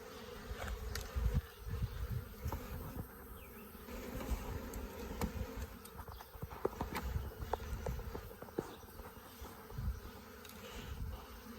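A swarm of honeybees buzzes steadily around hive boxes on a farm, a dense, continuous hum close by with a few soft knocks and shuffles mixed in.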